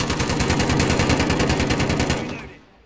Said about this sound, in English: It's a British machine gun.